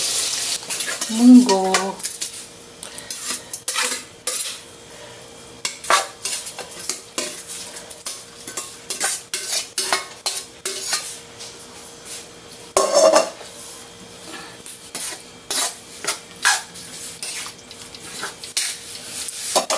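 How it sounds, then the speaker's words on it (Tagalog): A spoon scrapes and stirs mung beans mixed with sautéed crushed tomato in a pot. Repeated close, rhythmic scraping clatters over a soft sizzle, with a brief voice near the start. "Pwede din natin ihalo yung ating munggo."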